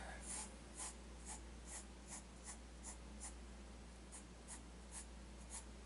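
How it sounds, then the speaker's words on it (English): Graphite pencil drawing on paper, heard as a quiet, close, steady series of quick scratchy strokes in an even rhythm against a low background hum. "I start with lighter graphite pencils, then get darker and darker to get more detail."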